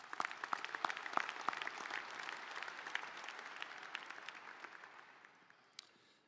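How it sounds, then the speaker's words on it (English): Graduation audience at the University of Wyoming spring undergraduate ceremony applauding, with dense clapping from a large crowd that starts full and gradually fades over several seconds. "let's give them all a quick round of applause."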